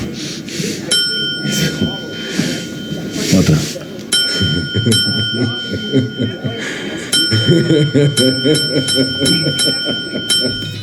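A small handheld bell rings repeatedly in bright metallic dings at an irregular rhythm, heard in a Better Call Saul scene, with Spanish speech and other voices talking alongside the rings.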